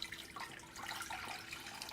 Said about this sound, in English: Then we're just going to cover them with water.